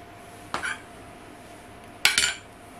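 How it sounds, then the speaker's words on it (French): A spatula scrapes the last of the sauce for a cauliflower gratin from a saucepan, making two short scraping clatters of utensil against metal, separated by a quiet pause in the kitchen. "J'ai pris la maryse pour pas laisser de sauce dans la casserole."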